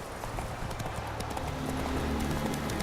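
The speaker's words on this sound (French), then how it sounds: "En avant, tablette. Au galop, Ablette." A horse galloping in The Witcher 3, with quick rhythmic hoofbeats running steadily throughout and a faint game soundtrack underneath.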